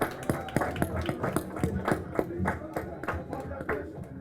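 Scattered applause from an audience at a 2018 Texila American University graduation ceremony in Dubai. Sharp claps land irregularly at a moderate pace, fairly close and moderately loud.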